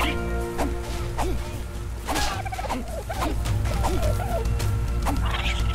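A dodo is struck and killed in the video game ARK: Survival Evolved, with repeated thwacking hits and squawking bird cries over a steady background, while people talk and laugh.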